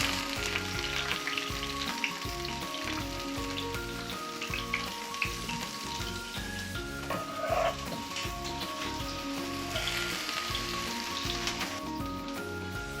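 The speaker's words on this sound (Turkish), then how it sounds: "Şöyle tüm kestiklerimi arkadaşlar alıp tavama bırakıyorum." Cut meat pieces dropped into a very hot pan and frying, a steady crackling sizzle close up with scattered sharp pops and occasional stirring knocks, continuous throughout and free of voices.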